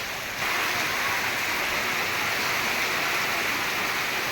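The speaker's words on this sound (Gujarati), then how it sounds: "અત્યારે જે વરસાદ ચાલુ થયો છે ભાઈ ગજબ" Heavy monsoon rain pours down in a dense, continuous roar that swells in loudly after a short quieter opening and holds steady with no talk.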